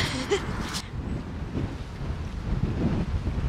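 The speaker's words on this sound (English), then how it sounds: "I don't know if you can hear how windy it is." Strong wind buffets the microphone outdoors, a steady low rumble with gusts, briefly joined by a faint voice at the start.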